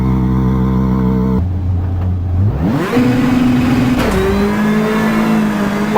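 A rally car engine in Richard Burns Rally, loud and close, idling with a steady hum before revving hard at full throttle, the pitch climbing and holding high with gear changes and no talking.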